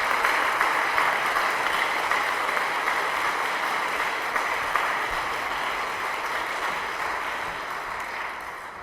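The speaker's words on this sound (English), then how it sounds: "why don't we start the night by just giving them a round of applause and thanking them for participating" Sustained audience applause at the 2014 Ontario election candidates debate in London West, a steady dense wash of many hands clapping that holds throughout and tapers slightly toward the end, with no talk over it.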